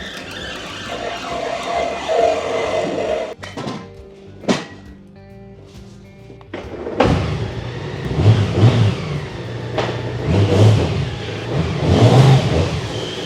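A Honda Gold Wing touring motorcycle engine idles, cuts out briefly, then revs up in several loud surges, with mechanical clunks between.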